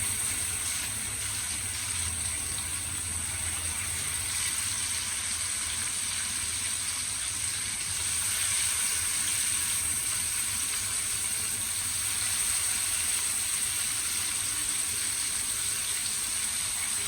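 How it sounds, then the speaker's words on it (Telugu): Marinated pomfret fish pieces frying in hot oil, a steady, even sizzle that holds without break, moderately loud and close. "ఇప్పుడు ఆయిల్ వేడెక్కిన తర్వాత మ్యారినేట్ చేసి పక్కన పెట్టుకున్న ఫిష్ పీసెస్ని ఫ్రై చేసుకుంటున్నాను"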